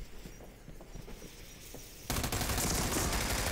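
Gunfire from a 3-round burst weapon in the video game America's Army: Proving Grounds, faint scattered shots and footsteps at first, then a sudden loud continuous barrage of rapid fire that dominates the rest.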